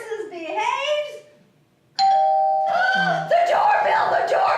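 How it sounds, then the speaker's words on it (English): A doorbell chimes inside a home, a bright tone ringing out loudly and sustaining, followed by excited voices talking over it; a voice is heard before the chime. "The doorbell! They're here!"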